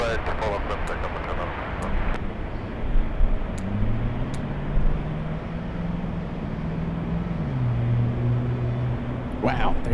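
An airliner's engines spool up and roar steadily on runway 24 left at Los Angeles International Airport, a sustained rising drone under radio chatter and a person talking.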